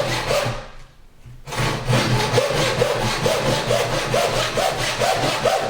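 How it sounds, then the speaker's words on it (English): An Irwin floorboard saw cuts through wood by hand, fitting a door architrave, with a brief pause before a steady run of close, rhythmic back-and-forth strokes. "I've got my saw now and I'm literally going to very gently"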